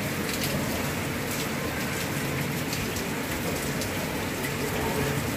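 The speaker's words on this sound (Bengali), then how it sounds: "বৃষ্টির দেখা মিলল আজকে।" Rain pours down steadily after a hot spell, a dense, continuous hiss of drops on surfaces with no breaks, heard alone at an even, moderate level.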